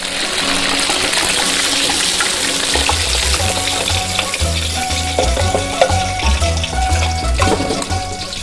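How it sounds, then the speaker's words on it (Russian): Garlic and hot pepper fry in a little oil for a Chinese pork dish, giving a steady close sizzle with scraping stir strokes and a few clinks, without any talking. "В небольшом количестве масла обжариваем чеснок и острый перец."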